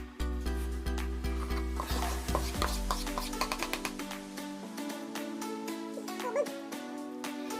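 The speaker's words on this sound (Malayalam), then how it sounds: "ഇനി നമുക്കിതൊരു 3 ബാച്ച് ആയിട്ടിട്ട് പതുക്കെ ഒന്ന് ഫോൾഡ് ചെയ്തെടുക്കാം" Strawberry cake batter being folded in a bowl, with repeated soft scraping and stirring strokes against the bowl in a fairly steady rhythm, close and clear, over a low musical backing.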